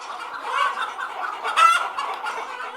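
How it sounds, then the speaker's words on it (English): Chickens of a nearly extinct, locally revived Indian breed cluck steadily and close by, with a louder burst of clucking partway through and no voices. "An almost extinct breed of chicken endemic to this area has been revived."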